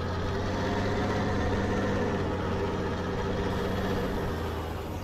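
A tractor engine in Farming Simulator 19 drones steadily throughout, a constant low rumble at even loudness with no breaks or revving.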